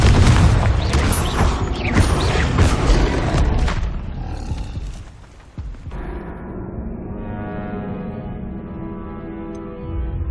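A Confringo fire spell explodes in the video game Hogwarts Legacy: a loud, roaring, rumbling blast sustained for several seconds, then dropping sharply into a softer lingering hum.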